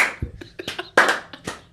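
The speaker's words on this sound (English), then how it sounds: "Slow clap for that." Slow clap from a podcast host, a handful of sharp, spaced hand claps ringing out one after another at a deliberate pace, close and fairly loud with no talking between them.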